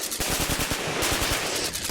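Rapid machine-gun fire crackles in a continuous burst of closely spaced, loud shots, dense and unbroken over the short stretch with no voices.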